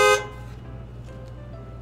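A car horn sounds one short loud honk at the start, then fades into a steady low background hum.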